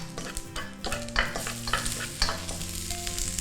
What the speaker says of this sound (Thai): ทีนี้เราจะมาผัดมาม่ากันค่ะ